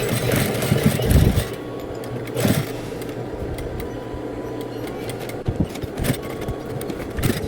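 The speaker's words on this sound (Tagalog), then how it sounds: "Tatahiin ulit natin ito dito sa may dulo sa dulo. Lagyan natin siya ng mas matibay na tahi." A sewing machine stitches a reinforced seam across the closing end of a large DIY tote bag: short bursts of rapid mechanical whirring start and stop over a low steady motor hum, close by, with no talk.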